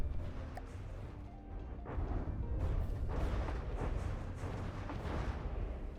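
Explosions from turret fire in a turret-design game, a dense run of rumbling low booms layered over each other, moderately loud and continuous with no talking.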